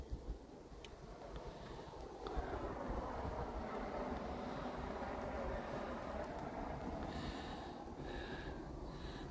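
Blizzard wind of about 45 mph blows across snow drifts in lower Michigan, a constant low roaring rush with gusty buffeting that stays loud throughout.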